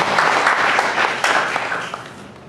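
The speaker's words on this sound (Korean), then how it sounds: "다시 한번 뜨겁게 박수 한번" A church congregation applauds the choir and its conductor with sustained, even clapping from many hands, easing off slightly toward the end.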